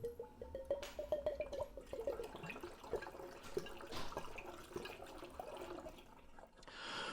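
Maker's Mark bourbon poured into an oak barrel, a faint, continuous liquid trickle and splash with gurgling near the start, heard quietly and close.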